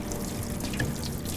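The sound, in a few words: water running through an ITG air filter in a sink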